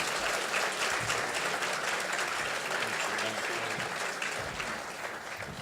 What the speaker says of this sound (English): Let's give our sheriffs and Eric another round of applause.